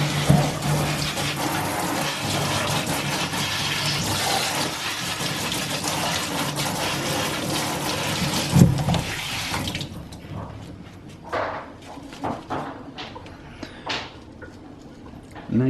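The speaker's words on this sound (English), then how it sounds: "turn your water on, put it on some jet or higher setting," A kitchen tap runs hard on a jet setting as a houseplant is rinsed under it, a steady loud gush for most of the stretch, then broken splashes and drips as the flow changes near the end.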